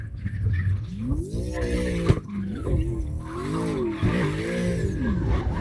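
Tires squeal and skid as a car drifts in CarX Drift Racing Online, the engine note rising and falling in long sweeps, loud and close throughout with no voices.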